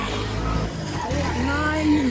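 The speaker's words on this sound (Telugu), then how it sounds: "సో ఇంత ఓల్డ్ ఉన్న కార్ కూడా స్టార్ట్ అయిందంటే గ్రేట్" An old car's engine starts and settles into a low, heavy rumble that is loud at first and then carries on under someone talking nearby.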